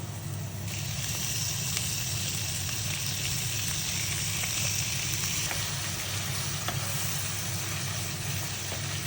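Corned beef sautéing with garlic and onion in a pan for Filipino macaroni soup, a steady, fairly loud sizzle and frying hiss heard close up with no talking.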